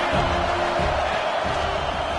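Football stadium crowd roaring and cheering for the home defense, a dense, loud, continuous wash of voices filling the whole stretch.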